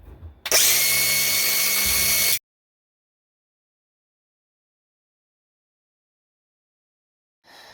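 An angle grinder cuts through copper pipe at a faucet stop, a loud, steady, harsh whine held for about two seconds that stops abruptly into silence.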